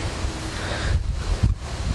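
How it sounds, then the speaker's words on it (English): Strong wind buffets the microphone with loud low rumbling gusts that swell and fade, with a steady hiss behind them. "Sorry about the wind."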